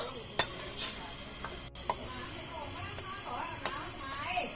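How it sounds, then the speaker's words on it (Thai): Coconut milk comes to a simmer in a pot for Thai green curry, with a soft bubbling sizzle and light stirring taps near the pan while someone talks over it. "ต้องให้กะทิเดือดหน่อยนะครับผม"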